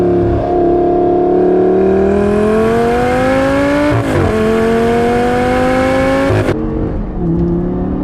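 Lamborghini Gallardo LP550-2 with a six-speed single-clutch E-gear transmission accelerating hard, its engine rising in pitch through the gears with two abrupt shift breaks, loud and close from inside the car.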